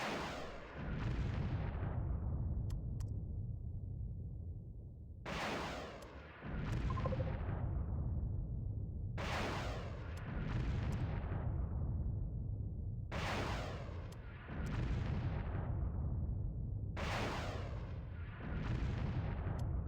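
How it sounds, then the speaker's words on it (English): Missile strike explosions from the war strategy game Supreme Ruler Ultimate, a series of five loud booming blasts at roughly four-second intervals, each with a sharp crack and a long rumbling decay over a continuous low battle rumble. "You fire your missile."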